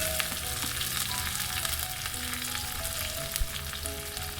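Mustard seeds, cumin and crushed green chilli, garlic and ginger sizzle loudly in hot oil, a dense, steady crackling hiss with scattered pops, close and continuous, no voices.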